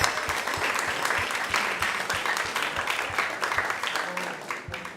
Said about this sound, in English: So please let's give us a big round of applause